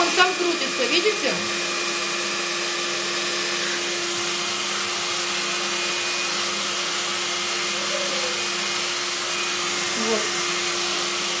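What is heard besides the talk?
hair dryer running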